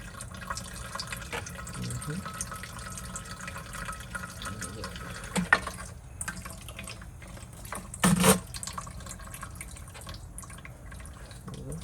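Fuel draining after a fuel pump is pulled from a 2011 Ford Escape 3.0, the tank contaminated with diesel: a steady low trickle of liquid with faint drips, plus a brief louder splash or clank partway through.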